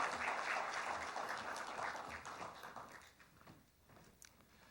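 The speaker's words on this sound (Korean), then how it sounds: "다시 한번 박수 부탁드리겠습니다." Audience applause at a software industry award ceremony, moderately dense at first and then thinning into scattered claps as it fades, heard from some distance.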